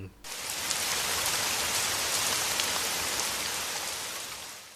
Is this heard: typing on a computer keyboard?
no